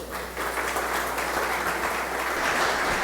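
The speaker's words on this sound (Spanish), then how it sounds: "les pido un fuerte aplauso" An audience claps steadily for a speaker at an air-conditioning industry talk, a dense, even patter of many hands that swells slightly after the first moments and carries on for about three seconds without voices.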